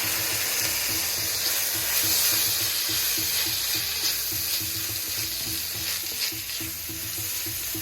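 Crickets stir-fried Thai style with tomatoes, fish sauce and soy sauce sizzle loudly and steadily in a hot pan, with rhythmic scraping and tossing of the utensil throughout.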